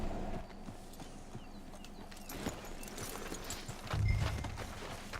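Horse hooves clip-clopping in Red Dead Redemption 2, a steady walking rhythm of soft hoof falls over ambient outdoor game sound, with a brief low thump near the end.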